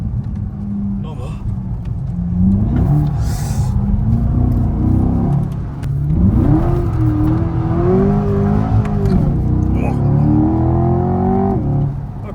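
Rear-engine Corvette C8 on semi-slick tyres on a wet track, its engine revving and surging in rising, falling sweeps while drifting, with steady road rumble beneath and a voice talking over it.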